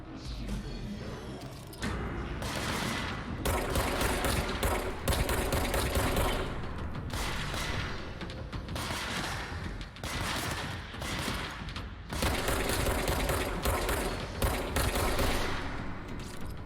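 Gunfire in the video game Control comes in dense, sustained automatic bursts that rattle loudly and nearly continuously, broken only by brief gaps, with no voices.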